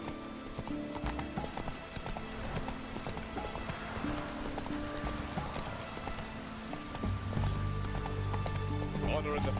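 The horse Roach gallops in The Witcher 3, its hooves clip-clopping steadily under game music and a voice, with rain-like patter in the background.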